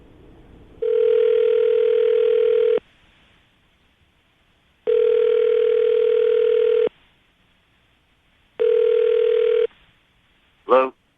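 Three long, steady ringback tones sound in a regular pattern through a phone line, separated by silent pauses, then a brief voice answers at the end.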